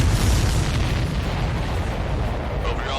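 Explosions from the video game Ace Combat 7, a dense continuous rumble of booming blasts and bursts filling the whole stretch at steady loud level, with some voice chatter mixed in.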